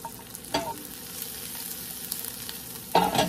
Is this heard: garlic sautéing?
yes